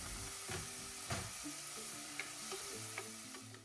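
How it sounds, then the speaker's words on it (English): Chopped tomatoes sauté with onions in a pan, a steady soft sizzle with several light scraping stirs of a spoon, close and fairly quiet, with no voices. "to this I'm going to add the chopped tomatoes and saute until they are soft"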